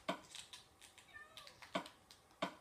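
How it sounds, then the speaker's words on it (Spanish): A cat in the video game Build World meows in short, repeated calls, mixed with sharp clicking taps at a steady spacing, fairly quiet and alone. "Mira mi gatito, mira."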